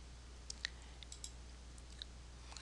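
A computer mouse clicks a few times in a quiet room, sharp, faint, irregular taps over a steady low hum.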